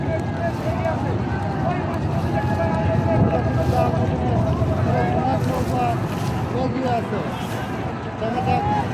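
During a boat race pitting Al Madina against New Uronto Balaka, a racing boat engine roars continuously at full throttle, a thick low drone with wind noise, while excited voices shout over it throughout.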